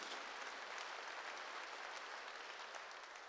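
A church congregation claps in applause during a sermon, a steady wash of hand claps that sounds fairly distant and faint, with no voices over it.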